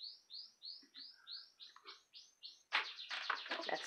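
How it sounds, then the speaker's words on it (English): An indoor male canary sings close by, a rapid run of about ten evenly spaced bright chirps that breaks into a louder, dense warbling trill. "That's my male canary singing away."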